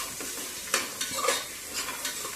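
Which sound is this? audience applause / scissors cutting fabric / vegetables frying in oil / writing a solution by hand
vegetables frying in oil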